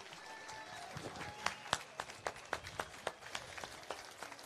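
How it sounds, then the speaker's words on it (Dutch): A large crowd at an outdoor political rally on the Malieveld applauds warmly, with a broad wash of clapping punctuated by sharper individual claps and whistles, steady and fairly close. "En ook graag een heel warm applaus voor Gideon van Meijeren."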